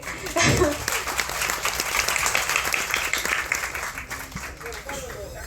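Sustained applause from a press meet audience in a Tamil film event as a guest walks in mid-speech, dense clapping that swells then thins over several seconds, with voices underneath.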